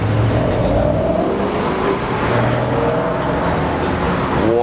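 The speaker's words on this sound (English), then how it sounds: "Here comes in the SLR." A Mercedes SLR engine roars close and loud as the car drives in, a steady dense rumble with rising whine throughout.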